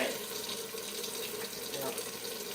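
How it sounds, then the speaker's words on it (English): A kitchen tap runs steadily, water splashing into a sink in a constant soft hiss for a couple of seconds. "I like to run water when I'm in the kitchen"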